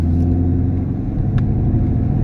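A 2016-2020 Chevrolet Camaro SS V8 running on E85 fuel, with cylinder deactivation tuned out, pulls under acceleration: a loud, close, continuous low engine drone and rumble with steady harmonic tones, heard alone without voices.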